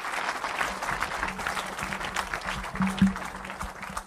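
A church congregation at a French-language worship service applauds loudly and steadily, with dense clapping from many hands and some faint voices mixed in.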